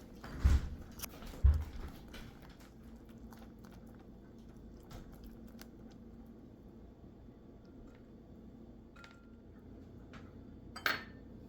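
A spoon scrapes and clinks in a bowl while almond crisp ingredients with melted coconut oil are mixed; a couple of sharper knocks near the start, then soft, faint stirring, with one more clink near the end.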